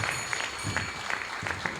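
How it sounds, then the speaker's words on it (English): Soft, somewhat distant applause at a college graduation ceremony, a thin steady patter of clapping with a few louder claps near the front. "So give her a round of applause."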